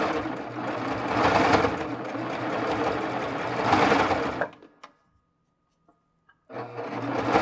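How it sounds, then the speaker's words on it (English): A Baby Lock serger runs fast, stitching ribbing onto knit fabric for a neckline with a rapid mechanical whir. It stops for about two seconds with only faint clicks, then starts again. "when you sew on a serger"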